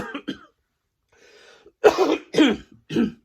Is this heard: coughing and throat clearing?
yes